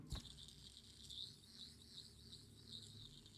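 A high, steady metallic whir from a spinning steel fidget spinner, with a faint click at the start and a gently wavering drone that continues alone.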